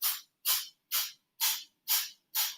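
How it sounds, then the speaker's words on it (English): Six forceful, breathy breath-of-fire exhales through the nose with lips closed, pressed from the belly, evenly spaced about half a second apart, each a sharp hissing puff. "We keep the lips closed and you press the breath out of the belly on the exhale."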